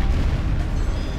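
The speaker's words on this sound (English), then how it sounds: "Oh man, that's a lot of explosions." Deep, continuous booming explosions from the James Bond video game Rogue Agent, a loud, dense rumble of blasts with no pauses and no talk.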